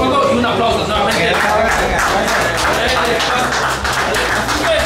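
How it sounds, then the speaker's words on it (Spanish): Applause from a crowd at a fast pizza-eating challenge, a dense steady wash of clapping that fills the whole stretch at constant loudness, with voices mixed in underneath. "un aplauso nuevamente"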